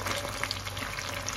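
Onions, garlic, pepper and canned sardines in sauce fry in a pan, a dense, steady, close sizzle with no talk.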